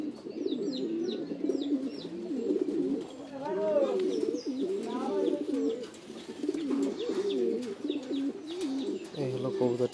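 A pigeon coos close by in repeated low, rolling phrases, steady and continuous, with a few brief higher bird chirps mixed in.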